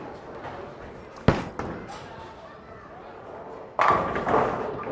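Urethane bowling ball (Zen U) released with a sharp thud onto a house-shot lane, then a steady low roll, followed by a louder burst of clatter near the end as it reaches the pins.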